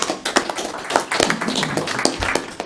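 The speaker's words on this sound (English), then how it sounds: "deserves a thundering round of applause right now for this community" Applause at a community health update meeting, a small group clapping with distinct, uneven hand claps close by, loud and irregular throughout.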